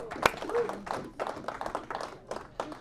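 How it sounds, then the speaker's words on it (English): A church congregation claps for a man called to the front: a sharp single clap, then a stretch of loose, uneven hand claps with scattered voices mixed in. "Yes, clap for Drew. Let's clap for Drew."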